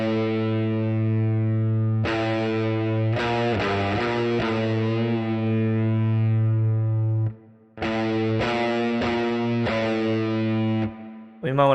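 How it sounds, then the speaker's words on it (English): Distorted electric guitar through a Quad Cortex with plate reverb, recreating the tone of a song. Sustained, heavy chords ring out in two long phrases separated by a brief gap, with rhythmic re-strikes. "I'd say maybe a plate might get us there."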